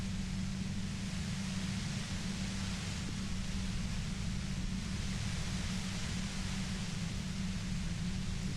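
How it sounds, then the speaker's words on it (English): Steady hiss of white noise static in the Disco Elysium video game, an even, unbroken wash of sound running throughout at low level with no voices. "You hear through the white noise."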